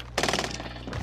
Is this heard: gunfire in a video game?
yes